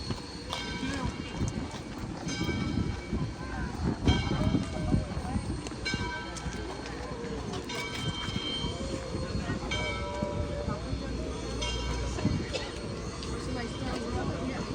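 Rhythmic clatter and rumble of a moving train on its tracks, steady and continuous, with faint voices in the background.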